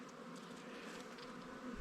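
Honey bees hum in a dense, continuous drone around an early-spring hive frame of capped brood, close and steady, with no talk.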